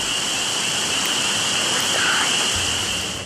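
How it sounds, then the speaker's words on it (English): Soft rain falls steadily at night, a continuous even hiss with no distinct drops and a faint high tone running through it. "A soft rain falls"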